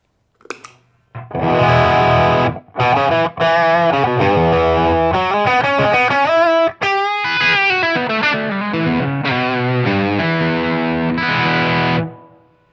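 Electric guitar played through a Blackstar AMPED 1 100W amplifier with a BB preamp pedal in front, clean setting with no reverb. Sustained chords and melodic notes ring out loudly and continuously, with a brief pause near the start.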